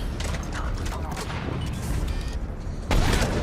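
Gunfire against mechs in the video game Mass Effect 3, dense rapid shots and mechanical clatter with a louder blast near the end.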